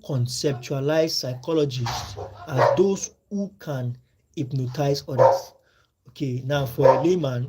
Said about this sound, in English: That's the dog. That's my dog in the compound.